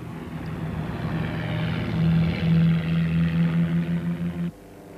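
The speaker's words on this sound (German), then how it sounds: "Die Flugzeuge starten. Über 300 sind es. Jäger, Bomber, Torpedoflugzeuge." Propeller aircraft engines drone steadily as a mass of fighters, bombers and torpedo planes takes off for the December 1941 attack on Hawaii, a loud sustained hum with pulsing throb that cuts off near the end.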